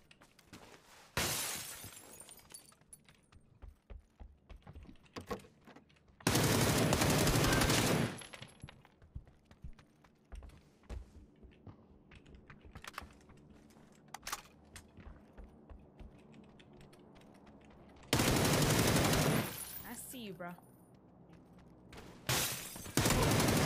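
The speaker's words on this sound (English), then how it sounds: "Thought he was gonna be very intelligent and shoot me through a freaking window on the ledge." Gunfire and breaking window glass in PUBG, with loud dense bursts of shots and shattering crashes in three long blasts, separated by quieter stretches of clicking and faint scattered noise.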